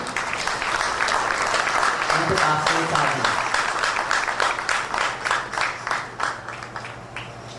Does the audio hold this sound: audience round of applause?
yes